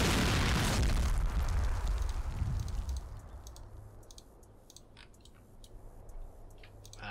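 Artillery shells explode in a modern military combat video game, opening with a loud, heavy blast that decays into a rumbling tail, followed by scattered sharp clicks and pops.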